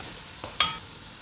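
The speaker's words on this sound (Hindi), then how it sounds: "इसको ज़रा तेज़ आग पे फ्राई करना है, ये तकरीबन अब फ्राई हो गई है।" Okra pieces fry in hot oil over a high flame, giving a faint, steady sizzle broken by one short metallic scrape and clink.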